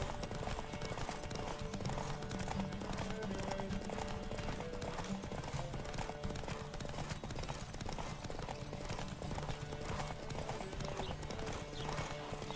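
Horse hooves clip-clop at a steady gallop across a race in Witcher 3: Wild Hunt, loud and continuous, mixed with game music and occasional whinnies, with faint voices underneath.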